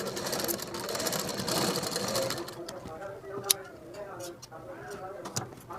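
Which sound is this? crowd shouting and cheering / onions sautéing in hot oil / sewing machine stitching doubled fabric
sewing machine stitching doubled fabric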